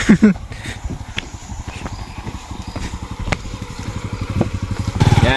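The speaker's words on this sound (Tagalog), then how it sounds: "seryoso dumadaan ang motor dito" A motorcycle engine putters close by on a trail near Pinaglabanan Falls with a rapid, uneven throb, growing a little louder as it moves past, with scattered knocks and clatter.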